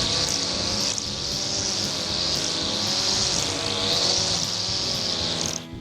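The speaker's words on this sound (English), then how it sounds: "I noticed that when I get into a little bit thicker part of my grass, you can hear it bog down a little bit" A Hitachi CG22EAP2SLB gas string trimmer with a 14-inch cut width runs loud and close through thick grass, its steady high engine whine dipping briefly as it bogs down, then easing off at the end.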